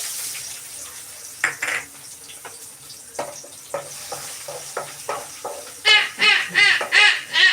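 Onion frying in a pan in a home kitchen, a soft sizzle with scattered stirring scrapes that turn into louder, rhythmic stirring strokes near the end, close and without speech.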